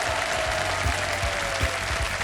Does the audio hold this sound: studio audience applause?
yes